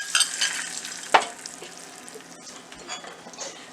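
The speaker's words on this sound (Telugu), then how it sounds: "ముందుగా కలిపి ఉంచుకున్న ఈ మజ్జిగలో ఈ తాలింపుని వేసుకోవాలి" Hot tempering fried in oil is poured into buttermilk for a chicken curry, giving a sharp hiss and sizzle that fades into soft bubbling and stirring clinks.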